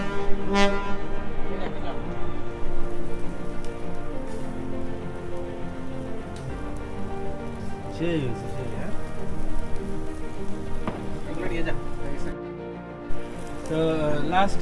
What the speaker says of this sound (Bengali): ওই যে হর্ন দিতেছে লঞ্চের হর্ন দিতেছে